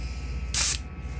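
An airbrush lets out one short hissing burst of bright gold brown shift paint, about a quarter second long, over a low steady background hum.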